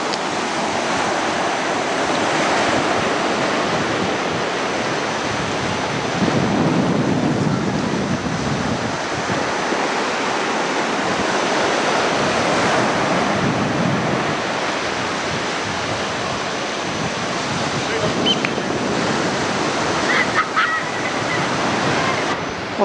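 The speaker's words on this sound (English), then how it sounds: "only get worn away when there's big waves coming in and crashing against them" Ocean waves surge and crash against rocks in a tidal area of Tasmania, a loud continuous roar of surf and wind with no pauses.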